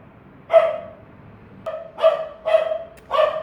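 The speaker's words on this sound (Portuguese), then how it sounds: "Meu cachorro." A dog barks four times in loud, evenly spaced single barks, close and clear against a quiet background, with no talk.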